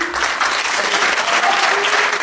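An audience at a fools' festival show in Mouscron applauds loudly and steadily, a thick continuous patter of clapping with no pause throughout.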